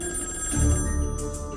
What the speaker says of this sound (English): At least until the next time the phone rings.